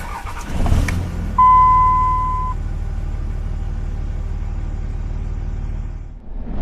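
A Cummins 5.9 diesel truck drives along, its engine giving a steady low rumble close by after a brief clunk at the start, holding even with a slight dip before rising again.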